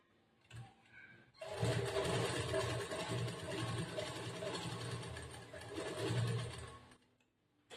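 A sewing machine stitches along a chudidar top in one continuous, close whirring run of several seconds, starting and stopping abruptly, with no talk over it.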